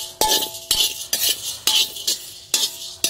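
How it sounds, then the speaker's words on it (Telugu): Chana dal being roasted in a pan for sambar powder, the spatula scraping and clinking against the metal in sharp repeated strokes about every half second over a faint sizzle of dry frying, close by. "ఇప్పుడు శనగపప్పు వేసుకుని 2 నిమిషాలు వేయించుకోవాలి."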